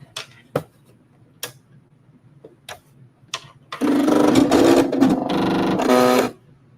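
A sewing machine stitches black thread on denim in a burst of rapid mechanical whirring lasting about three seconds, after a few sparse clicks and taps near a quiet room.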